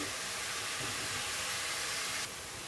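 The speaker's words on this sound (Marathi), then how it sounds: "आता हे मी छान असं परतून घेते" Grated carrots for halwa sautéing in a pan, a loud, steady sizzling hiss filling the whole stretch without pause, close by and with no talking over it.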